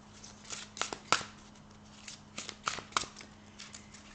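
Oracle cards being shuffled by hand, soft, faint riffling bursts and taps coming in irregular clusters against a quiet room.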